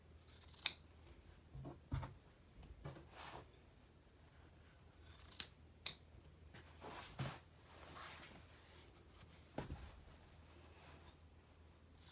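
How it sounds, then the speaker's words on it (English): Scissors trimming bulky fabric from the corners of a facing on pom pom binding, making a handful of short, sharp snips spaced irregularly against a quiet, faintly hissing room, close to the listener. "you want to trim a little bit of the bulk out of the corners there"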